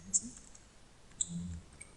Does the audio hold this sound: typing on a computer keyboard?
yes